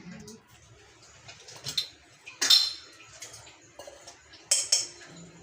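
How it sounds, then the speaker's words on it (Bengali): A metal fork presses and crimps the edges of beef pitha dough on a kitchen surface, giving light scattered clinks and taps, a few sharper bright clicks among soft handling noises, close and quiet with no talk. "এখন আমি কাঁটা চামচ দিয়ে এভাবে করে একটু ছিল মুড়ে দিচ্ছি।"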